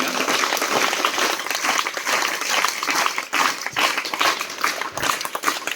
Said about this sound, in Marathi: आपण प्रथम त्यांचं तीन टाळ्या वाजून जोरदार स्वागत करूया